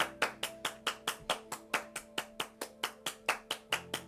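A group of people clapping in steady unison, about fourteen sharp evenly spaced claps in a row, clear and fairly close.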